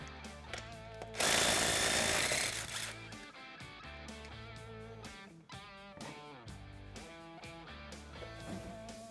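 Front wheels and tires come off a Polaris RZR Trail 900 with a loud, harsh burst from a power tool, followed by choppy clicks and bursts of tool noise up close.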